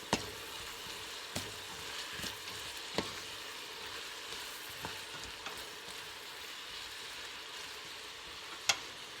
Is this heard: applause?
no